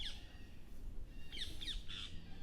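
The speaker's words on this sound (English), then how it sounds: "the birds are going mad." Birds squawk loudly outdoors in repeated harsh bursts, a few close calls over steady background noise.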